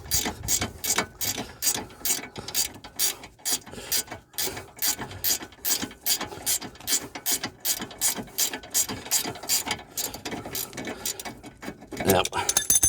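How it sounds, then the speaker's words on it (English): Ratchet spanner clicking steadily as it undoes the bottom bolt on a Daihatsu Copen front hub, a close, rapid run of rhythmic pawl clicks in bursts with brief pauses, louder handling noise near the end. "Then you're able to get a ratchet spanner on this bottom bolt, which is fairly easy to take off."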